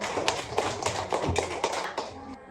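A group of students in a classroom claps together in a quick, rhythmic pattern of sharp, close hand claps, keeping a fairly even beat for around two seconds before stopping.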